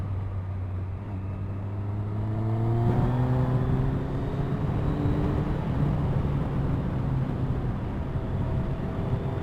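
A motorcycle accelerating out of a corner on a wet road past the national speed limit sign, its engine note climbing steadily through the rev range, close and fairly loud over steady wind rush.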